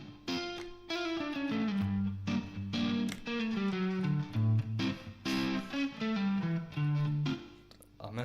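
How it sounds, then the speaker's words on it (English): Distorted electric guitar runs through a natural minor scale over a progression of three minor chords (vi, ii, iii), with a melodic line of quick, connected notes over a sustained chord bed, loud and continuous without pauses. "if I try playing the natural minor over it, it's gonna sound like this."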